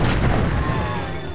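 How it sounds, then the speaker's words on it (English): A time bomb explodes in the video game Heretic. It sounds like a loud, dense boom with a low rumble that keeps ringing and slowly fades over about a second and a half. "Yes, this is what a time bomb does."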